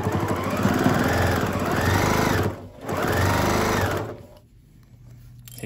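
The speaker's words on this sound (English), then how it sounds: "you might not have a super strong sewing machine" A sewing machine fitted with a heavy needle stitches through thick placemats, running in loud, steady bursts with a short pause between runs before the motor winds down.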